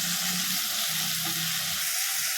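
Tomatoes sautéing in a pan for Chennai-style mutton biryani, a steady close hissing sizzle with soft stirring noises, continuous and without voices.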